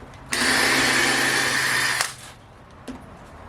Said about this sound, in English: we'll drill ourselves an 1/8 inch pilot hole